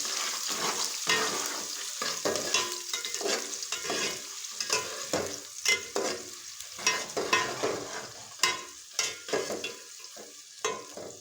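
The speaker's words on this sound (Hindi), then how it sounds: "अब प्याज को भूनेंगे अच्छी तरह" Onions frying in a pot for a mixed vegetable pulao while a spoon stirs them, a steady close sizzle broken by rhythmic scraping strokes every half second or so, with no talk.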